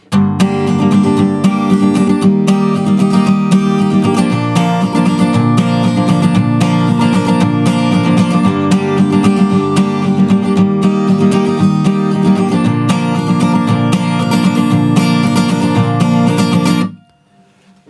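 A guitar plays the verse of a song, strummed chords in a steady rhythm sustained loud and close throughout, with no voice, then stopping near the end.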